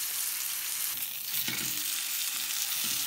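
A beef roast sears in a hot skillet, held over the center with long tongs, giving a steady broadband sizzle with a few brief louder crackles and low clunks.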